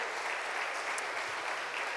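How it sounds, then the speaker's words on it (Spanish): A church congregation claps warmly to welcome first-time visitors, a brief, even stretch of dense applause with no break, moderately loud. "con un fuerte aplauso, un aplauso a los que hoy vienen por primera vez"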